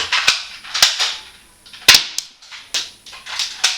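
A Mossberg tactical spring airsoft shotgun fires sharp, close snapping shots, several in an uneven sequence with short pauses between, each crack quickly fading.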